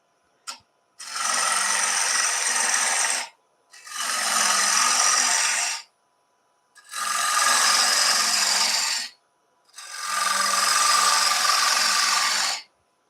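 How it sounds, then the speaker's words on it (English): A skew chisel scrapes a radius on the foot of a textured wooden bowl spinning on a lathe, four steady rasping passes of about two seconds each separated by short pauses, close and fairly loud. "I'm just going to scrape a radius now with that lovely skew."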